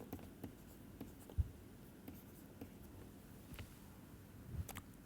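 Chalk or marker writing on a board during a physics lecture gives soft, faint scratches and light taps spread across a low room hum, with no talking.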